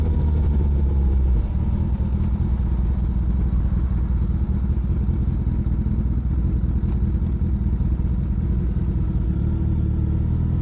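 Motorcycle fitted with Brembo front brakes, its mid-pitched engine running steady and loud throughout, a continuous close rumble with light clatter and no speech.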